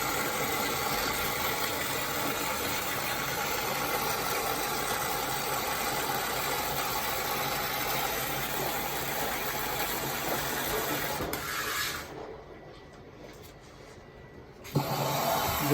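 Washing machine agitating partway through a cycle during drain pump troubleshooting, a steady loud churning hum with motor vibration that runs continuously, then drops out sharply near the end before a sudden thump returns.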